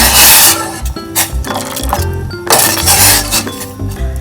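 A spoon stirs karak chai made with evaporated milk, clinking busily against the cup in quick, uneven taps, close and fairly loud throughout.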